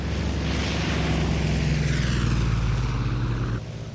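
A Vought F4U Corsair's radial piston engine drones steadily in cruise flight, a loud, continuous propeller roar that holds even before dropping slightly in level near the end.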